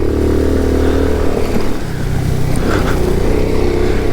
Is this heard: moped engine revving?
yes